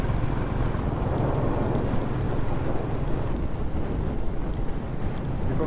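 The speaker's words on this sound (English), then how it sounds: "It is raining. That is a thing." Rain falls during a Royal Enfield motorcycle ride, a dense, steady wash of spray and rushing wind noise with no voices.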